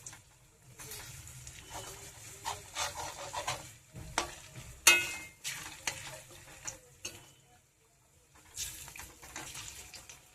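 Crispy snacks fry and sizzle in hot oil, with an uneven crackle rising and falling, punctuated by stirring scrapes and clinks of a utensil, close and fairly quiet.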